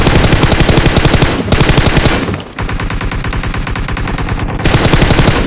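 Sustained loud bursts of automatic M4 rifle fire in the battle royale game PUBG, rapid repeated shots with a brief pause near the middle before firing resumes, no talk.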